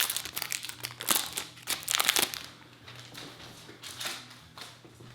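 Plastic wrap crinkles and crackles as it is peeled off a Burberry London fragrance box, close and in bursts, with quieter rustling toward the end.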